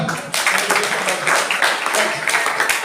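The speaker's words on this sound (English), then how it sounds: "Big round of applause to her." A burst of applause from a school class, dense clapping that starts abruptly and carries on with voices mixed in.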